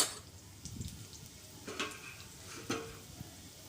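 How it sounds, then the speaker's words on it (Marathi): Mustard seeds and half a teaspoon of cumin seeds are dropped into hot oil in a pot for tempering dal, giving a quiet sizzle broken by a few sharp pops and crackles. "एका पातेल्यामध्ये मी तेल गरम करून घेतलेलं आहे इथे टाकूया थोडीशी मोहरी अर्धा छोटा चम्मच जिरा"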